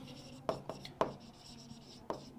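Pen or marker strokes on a board during a Bengali science lesson, a few short scraping marks spaced about half a second apart, close and fairly quiet, with no talk.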